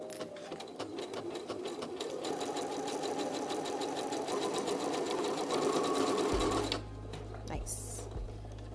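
A sewing machine stitches a buttonhole on a dress, running in a steady rapid rhythm up close for several seconds before stopping, followed by a low hum and a couple of soft clicks.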